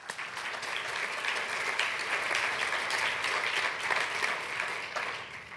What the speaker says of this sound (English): I think we should applaud all of them for being with us tonight.